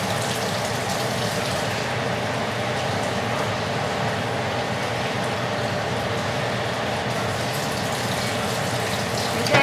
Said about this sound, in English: Just enough water to cover the potatoes